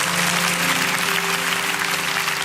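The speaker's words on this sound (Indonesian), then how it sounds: "ya kasih tepuk tangan buat Tuhan kita" A youth church congregation at an AOG Teen service claps for God, dense continuous applause holding at a steady level throughout, with no voices standing out.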